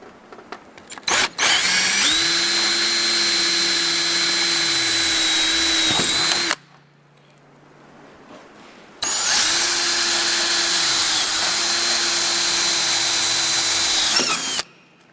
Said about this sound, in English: to install the starter strip, we're just going to drill